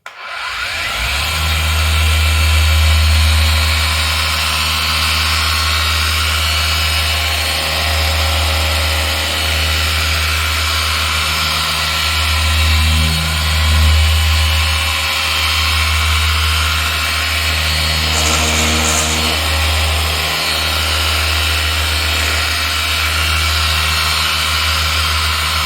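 A pad priming machine runs steadily at 4,500 rpm with light downward pressure on the pad. It gives a loud, continuous motor whine and hum with slight rises and dips and no pauses.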